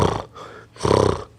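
A person imitates snoring with two rough, rumbling breaths, the second louder and longer, close and alone.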